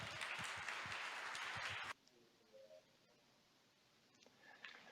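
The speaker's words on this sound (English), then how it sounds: "Okay, ladies and gentlemen, please have a round of applause for Gunter." Audience applause at the GreenEST Summit 2019 for a speaker on mobility and logistics, a steady burst of clapping that cuts off abruptly after about two seconds, leaving a quiet room.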